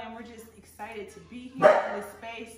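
A pet dog gives a short bark in a room while people talk, the bark rising briefly above the speech.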